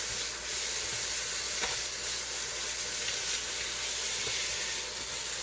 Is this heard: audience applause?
no